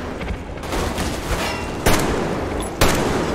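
Gunfire in the video game Metro Exodus, dense overlapping shots rumbling close and loud, with two sharper, heavier blasts standing out near the end.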